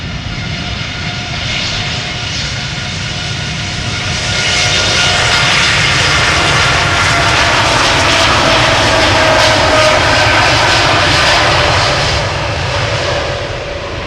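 An airliner on flight 901, almost ten years old, takes off from Amsterdam Schiphol for Montreal. Its loud, close jet engine roar swells after a few seconds and stays strong and steady, with no voices over it.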